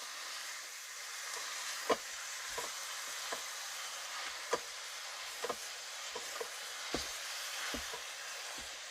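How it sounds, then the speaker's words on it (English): Ground beef sizzles in a pot while a spoon stirs and breaks it up, producing a steady faint frying hiss broken by sharp scraping and knocking sounds at irregular intervals. "So we're gonna start stirring this. Start breaking the ground beef inside the pot."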